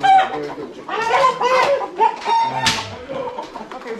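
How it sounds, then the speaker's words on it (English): A black rooster clucks and calls in a busy outdoor setting in Buffalo, New York, with several bird sounds overlapping, mixed with voices talking nearby. "Oh my god, very good chicken."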